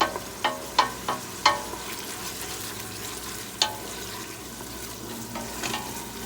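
Beef stew sauce fries steadily in a pan, a continuous sizzle with several sharp stirring clinks and scrapes near the start and a few more later, close and moderately loud.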